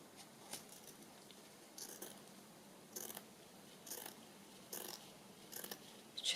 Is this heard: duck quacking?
no